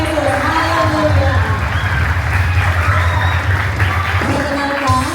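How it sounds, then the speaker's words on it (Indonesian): Steady audience applause at a school gathering, loud and continuous throughout, with a dense low clapping wash and some voices mixed in. "Kita kasih tepuk tangannya buat Tuhan Yesus."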